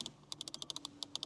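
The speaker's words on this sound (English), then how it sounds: "also the clicking sound from the climate unit" Crisp clicking of the climate control switches in a Bentley Continental GT hybrid cabin, about a dozen sharp, close clicks in quick irregular succession with no talking.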